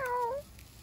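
One cat gives a single clear, fairly loud meow at close range that drops in pitch and fades after about half a second, followed by quiet background.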